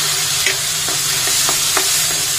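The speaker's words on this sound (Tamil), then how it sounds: "இப்போ நம்ம வடிகட்டி வச்ச பட்டாணியை போட்டுடலாம்." Drained green peas go into a hot frying pan for a Tamil-style peas masala, producing a loud, constant close sizzle broken by several short scraping stirs.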